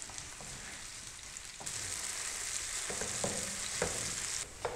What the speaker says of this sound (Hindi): प्याज को हमने हल्का सा गोल्डन कलर दे देना है